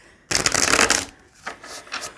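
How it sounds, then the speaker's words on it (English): A deck of tarot cards is riffle-shuffled up close, one loud dense burst of rapid flicking, then a few softer shuffling strokes, with no voices. "Let's give it a proper shuffle. One of these satisfying shuffles."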